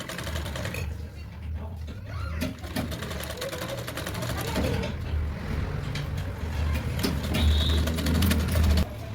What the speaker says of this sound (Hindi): हल्के हाथों से प्रेस करते हुए फिनिशिंग देते हुए हम इसको सिलेंगे।